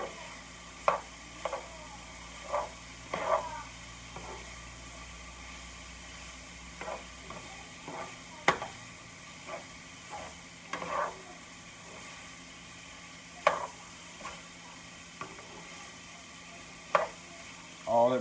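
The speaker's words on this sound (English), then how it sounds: "We'll stir it around, give it a good mix, get them kind of evenly distributed." Seasoned taco meat stirred in a pan, with quiet scraping strokes of the utensil recurring at irregular intervals over a low, steady background sizzle.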